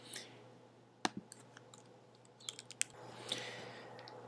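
Quiet, sparse clicks of a computer mouse, a few sharp isolated taps scattered over a low background hum with no speech.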